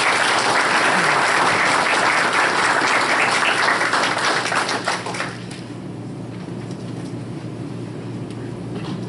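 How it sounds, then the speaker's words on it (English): A school board meeting audience claps loudly for retiring staff, a dense burst of applause that fades out after about five seconds into quiet room tone. "one big round of applause for all of our retirees"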